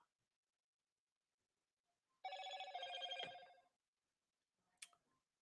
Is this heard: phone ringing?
yes